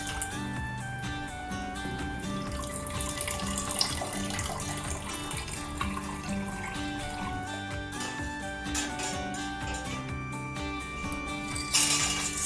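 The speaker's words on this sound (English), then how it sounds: "Let it pass through a strainer or a cloth bag to get a clean stock." Chicken stock made with shrimp heads and chicken bones poured through a strainer, a steady close splashing stream of liquid running without pause, with faint tonal background noise underneath.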